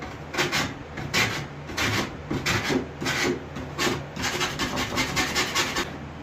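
A hand rasp files down a coyote mount in steady, rhythmic rough scraping strokes, close and loud, with no talk over it.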